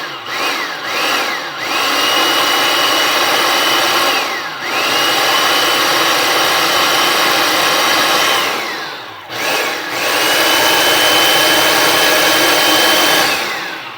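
A blender pureeing red lentil bread batter, loud whirring bursts with short pauses and pitch dips between pulses, then a long sustained run; no voices.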